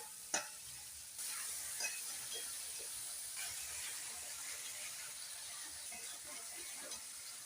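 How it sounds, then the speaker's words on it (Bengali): A spoon stirs spiced masoor lentils in a pan after water has been added, with a steady soft sizzle and steamy hiss under scraping strokes, close up, and no voices. "একটু জল দিয়ে দিলাম, নেড়ে দিলাম ভালো করে।"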